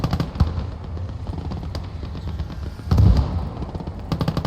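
A tank cannon fires in the WWII video game Gates of Hell Ostfront, a few sharp booms with one heavier blast near the middle standing out over the rumbling battlefield.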